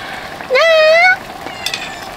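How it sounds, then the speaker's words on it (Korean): Cat at a winter campsite in Daegwallyeong, giving one clear rising meow lasting about half a second, close and fairly loud, followed by quieter background sounds. "어? 고양이인 것 같은데?"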